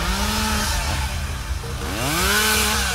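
A chainsaw runs loud and close, its engine pitch holding steady, dipping, then rising again as the throttle is worked, with no one talking.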